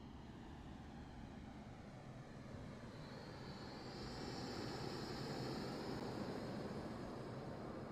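Boeing Dreamlifter in Microsoft Flight Simulator 2024 on landing approach, a faint, steady jet roar whose pitch shifts and swells midway.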